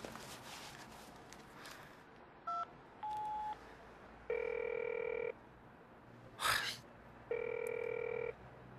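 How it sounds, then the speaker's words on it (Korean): A phone call goes unanswered: a few beeps, then repeated electronic ringing tones come in evenly spaced bursts, with a brief rustle between them, clear and fairly close in a quiet room. "왜 또 전화를 안 받아?"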